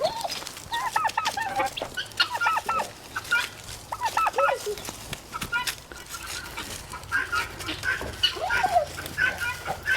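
A flock of turkeys and other fowl gobble and cluck in rapid, overlapping bursts, close and fairly loud throughout, with no clear talking over them.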